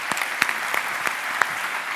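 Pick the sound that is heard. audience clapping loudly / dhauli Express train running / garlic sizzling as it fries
audience clapping loudly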